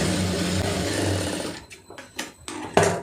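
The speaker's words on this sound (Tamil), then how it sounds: "இழுத்துட்டு இந்த ஒட்டில் வந்து ஒரு தையல் போட்டுருங்க." Sewing machine stitching a round neckline with lining fabric, a close steady mechanical chatter for about a second and a half, then a few short bursts of stitching with brief stops between them.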